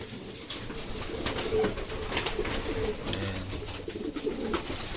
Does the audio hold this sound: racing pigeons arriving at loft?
yes